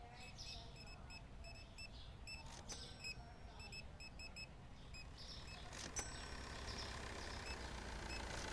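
A delivery truck reverses outside a supermarket, its backup alarm repeating steady, evenly spaced high beeps at a moderate distance over a low engine rumble, with a couple of sharp knocks and no talking.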